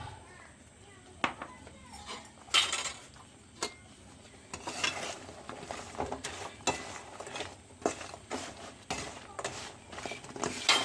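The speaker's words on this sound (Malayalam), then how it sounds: "വറുത്ത അരിപ്പൊടി ഇട്ടിട്ട് നല്ലോണം യോജിപ്പിച്ചെടുക്കാം" Roasted rice flour is stirred into sharkara varatti in a pan, producing sporadic clacks, taps and scraping of a spoon against the pan at an uneven rhythm over a low, quiet background.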